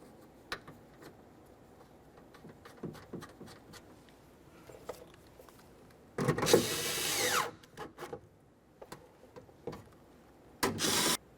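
Mounting bolts on the window regulator of a 2004-2006 Scion xB driver's door being snugged up, heard as short ratcheting and rubbing bursts, with two louder sustained runs of mechanical whirring close by, each lasting about a second.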